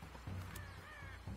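A bird takes off in the video game Rise of the Tomb Raider, giving a short crow-like caw over a low, humming game background.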